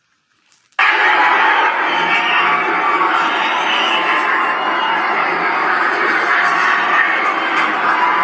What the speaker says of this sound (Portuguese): Só tá o barulho da gritaria